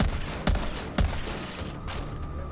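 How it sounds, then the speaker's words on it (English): Hyperion shotgun firing in Borderlands 3, two loud punchy blasts about half a second apart over a busy, noisy background, with a fainter shot near the end. "Hyperion shotguns in this game are really cool."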